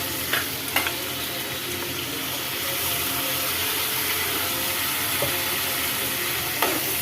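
Tomatoes sauté with onions in a pan for tomato kulambu. The sizzle is steady, loud and close, with a few sharp clicks of a spoon against the pan.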